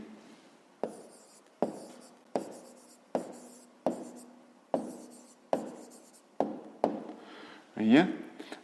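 A pen writes out the answer to a grade 5 maths exercise in repeated short strokes with sharp onsets, close and fairly quiet, followed by a brief scribble at the end.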